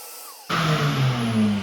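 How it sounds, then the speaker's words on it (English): A shop vacuum switches on abruptly in a woodworking shop where pocket-hole jigs are being tested, then holds a loud, steady roar with a low motor hum for the rest of the clip. "So let's turn on the shop vac."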